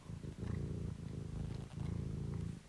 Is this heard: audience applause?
no